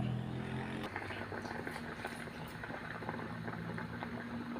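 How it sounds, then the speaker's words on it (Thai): A pot of bamboo shoots boils steadily for a pork bone soup, giving a continuous, even bubbling and simmering that stays moderately loud throughout with no talking. "หม้อหน่อไม้ต้มนะครับ ของเราก็เริ่มสุกแล้ว"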